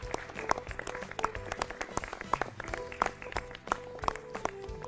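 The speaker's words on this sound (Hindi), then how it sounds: "तालियां" Scattered clapping greets a correct answer on a children's educational TV quiz program, uneven individual claps at moderate distance over a busy background with faint voices and music.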